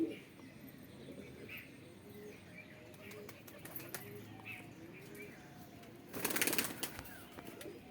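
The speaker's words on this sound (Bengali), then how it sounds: "আমার এই সব হচ্ছে ম্যাড্রাস পায়রা" Madras pigeons coo softly and faintly outdoors, low murmuring calls under background noise, with a brief burst of wing flapping near the end.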